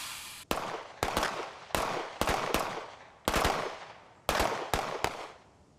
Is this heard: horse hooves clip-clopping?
no